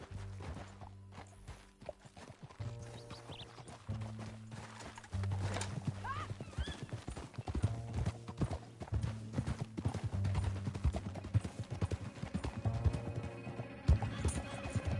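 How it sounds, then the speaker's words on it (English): Horse hooves clip-clop in a steady galloping rhythm in the video game Red Dead Redemption 2, with occasional whinnies and a low musical drone underneath, moderately close and continuous. "Back on your horse, let's get after them."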